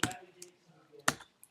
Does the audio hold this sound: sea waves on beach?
no